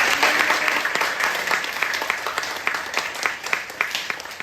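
A church congregation at a revival meeting applauds together, a dense, steady wash of clapping that swells at first and then slowly thins and fades over several seconds.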